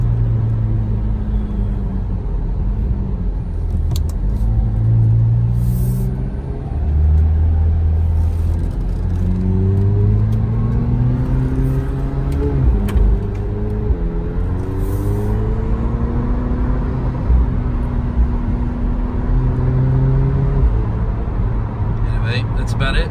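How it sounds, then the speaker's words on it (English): A TrackHawk drives on a road through roundabouts at legal speeds, its engine rumbling and rising and falling in pitch as it shifts, with someone talking over the drive throughout. "Even at legal speeds, it's still a pretty fun car to drive."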